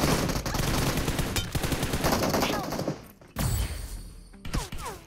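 Rapid automatic gunfire from AKM, UMP and M416 weapons in a BGMI battle royale match: dense, loud bursts that pause briefly and then resume with sharper individual shots.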